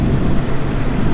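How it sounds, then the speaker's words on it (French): Steady broadband wind rush from riding an unfaired QJ SRV600 V4 four-cylinder custom motorcycle, a constant loud low roar with no talk. "comme on n'a aucune protection, on a beaucoup le bruit du vent dans les oreilles"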